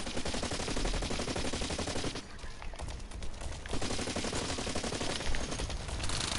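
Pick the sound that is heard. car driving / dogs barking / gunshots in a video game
gunshots in a video game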